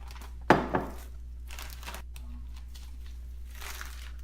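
Plastic bags crinkle as brining chicken thighs are double bagged, with a sharp close rustle near the start and softer scattered handling noises after.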